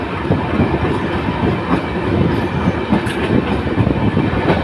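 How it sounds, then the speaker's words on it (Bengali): A train pulling out of Saidabad railway station rolls past loud and close, wheels clattering in a steady clickety-clack rhythm over continuous rumbling for the whole stretch, with no voices. "সামনে কিন্তু সৈয়দাবাদ রেল স্টেশন থেকে ছেড়ে আসছে একটি ট্রেন,"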